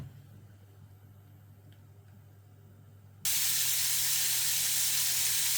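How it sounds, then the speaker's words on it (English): Bacon frying in oil in a frying pan, a loud steady sizzle that bursts in suddenly after a few seconds of quiet low hum and continues without a break. "heat a tablespoon of oil in a frying pan and cook the bacon for 3 to 4 minutes."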